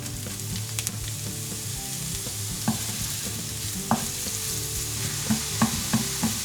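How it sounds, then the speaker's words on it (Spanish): Ginger and spring onion sizzling in a wok, with a steady frying hiss and occasional sharp clicks of stirring utensils scraping the pan, close and continuous with no talk. "Ponemos el jengibre, y antes de que se dore, le incorporamos la cebolleta."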